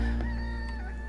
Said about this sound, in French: Ok, un petit coq.